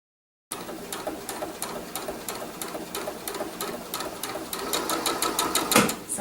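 A sewing machine runs blanket stitch along a quilt binding: rapid, regular close needle clicks that quicken and grow slightly louder toward the end, after a brief silent start.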